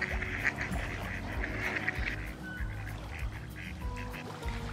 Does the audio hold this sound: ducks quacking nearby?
yes